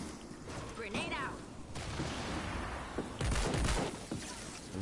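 Fortnite Save the World gameplay gunfire crackles in dense rapid bursts, with a grenade blast thumping in the middle, loud and close under a voice talking over the action.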